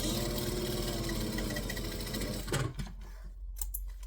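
Sewing machine stitching a fabric seam and then back stitching: a steady, close mechanical whir for about two and a half seconds, followed by a brief stop-start burst of stitches before it falls quiet.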